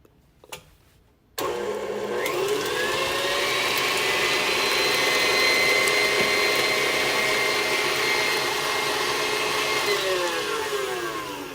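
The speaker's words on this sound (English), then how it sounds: "we are going to cream our butter first" An electric mixer creams butter for a brown sugar rum pound cake, starting with a sudden loud whir after a brief click and running as a steady close motor drone for about ten seconds.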